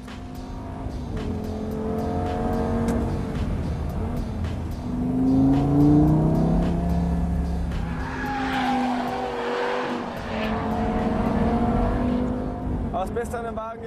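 A Lamborghini Gallardo with all-wheel drive running at high speed, its engine droning and shifting pitch with rising harmonics, under someone talking throughout.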